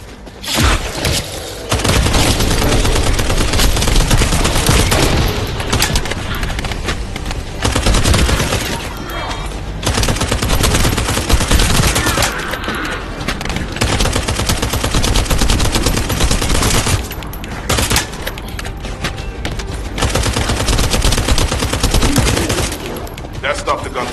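Sustained bursts of gunfire in the video game The First Descendant, loud and dense, with rapid automatic fire and booming impacts continuing almost without pause.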